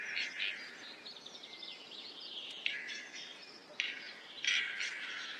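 Male capercaillie displaying on a forest floor, giving a run of faint, high clicking and chirping calls with a few sharper bursts over steady woodland ambience.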